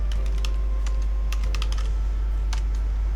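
Typing on a computer keyboard while entering a database name, with quick irregular clusters of clicking keystrokes over a steady low hum.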